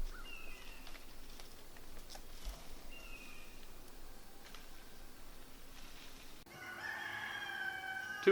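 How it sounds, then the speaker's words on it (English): A rooster crowing outdoors, heard faint and distant a couple of times before one louder, nearer cock-a-doodle-doo at the end, over quiet ambient background. "my rooster's crowing"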